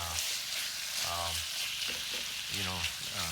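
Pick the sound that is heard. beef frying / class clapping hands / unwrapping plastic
beef frying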